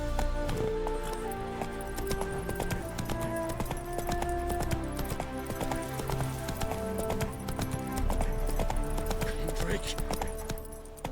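Horse galloping in The Witcher 3, a fast, continuous clip-clop of hooves under layered game music and ambience, steady and fairly loud throughout.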